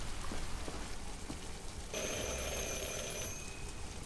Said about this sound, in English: Get you out of the rain.